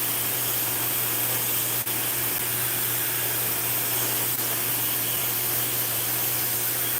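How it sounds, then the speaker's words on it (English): Hair dryer with a nozzle blowing on damp hair, a constant loud hiss and hum with a steady low motor tone, close and uninterrupted. "I kind of go in and blow the hair because it's a little damp here"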